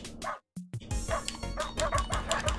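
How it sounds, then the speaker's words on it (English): Corgi barks in the video game ProtoCorgi, a string of short, bright yips repeating in a quick, uneven rhythm over game music after a brief silent gap, loud and up close. "Tap X to bark."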